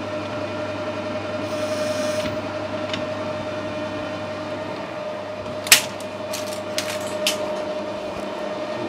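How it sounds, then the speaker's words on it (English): A lathe runs with a steady motor hum while chamfering the outer edge of a brass thrust washer, with a few faint clicks and a sharp tap partway through. "Just put a chamfer on this outer edge."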